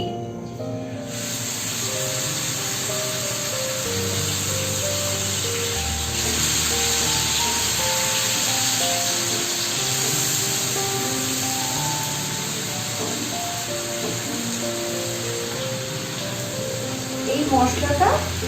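Chicken pieces frying in about two spoons of hot white oil in a pan give a steady close sizzle and hiss throughout, with background music running underneath.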